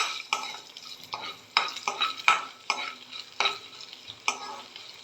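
Spice tempering sizzles in a pan with ginger for Maharashtrian kokum saar, and a spoon scrapes through it in sharp, regular strokes roughly every second over the continuous hiss.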